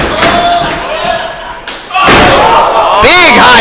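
A wrestler lands a high enziguri kick in a wrestling match, a sharp thud amid a loud crowd roar with a commentator talking over it.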